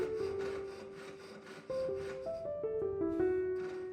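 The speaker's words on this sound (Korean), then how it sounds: "톱질은 아래 위로 움직이는 팔의 운동과 입으로 부는 바람의 반복 행동입니다." Hand sawing on brass, a steady scraping rasp in repeated strokes with a faint ringing tone underneath, close and fairly quiet.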